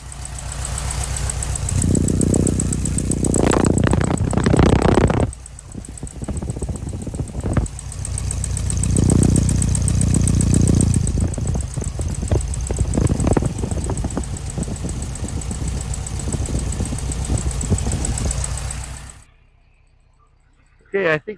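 A 1969 Volkswagen air-cooled flat-four boxer engine idles at its twin pea-shooter exhaust pipes, a loud steady burble with talk over parts, then the engine is cut and the sound stops abruptly.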